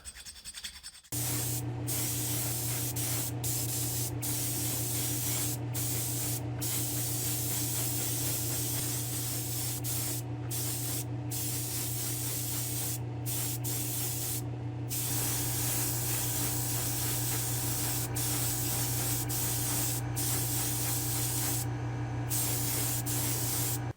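A steady, loud hiss of spray paint being applied to a Hot Wheels toy truck, continuous for over twenty seconds after a brief start, with occasional short clicks and taps breaking through.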